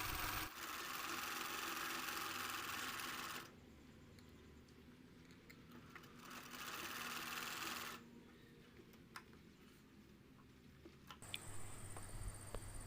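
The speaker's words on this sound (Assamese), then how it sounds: "আৰু সেই ভাঁজটোৰে চিলাই গৈ আছোঁ" Sewing machine stitching a curtain hem made from an old dhoti, a steady close mechanical whir in long runs that stop and restart, with quieter handling sounds during the pauses.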